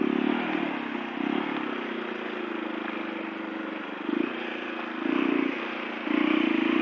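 A trail motorcycle engine runs steadily near a dam reservoir, its low drone rising in several brief revving surges over a continuous rough hum with no talking.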